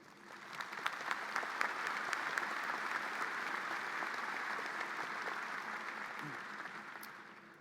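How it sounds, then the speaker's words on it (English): Sustained audience applause fills a graduate school commencement ceremony at Virginia Tech, a steady wash of many hands clapping at moderate distance that holds evenly throughout and eases slightly at the end. "Please join me in recognizing these individuals with your applause"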